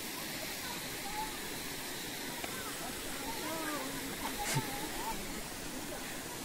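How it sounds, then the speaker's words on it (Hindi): A small waterfall near Badlapur's Dhangar waterfall area gives a steady, moderately loud rush of falling water that continues without a break, with faint indistinct voices in the background. "छोटा वाटरफॉल"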